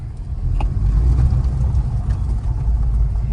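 A petrol-engined Honda Civic Type R FL5 driving on the road, with a steady low engine hum and road rumble heard from inside the cabin, moderate and continuous with no talk.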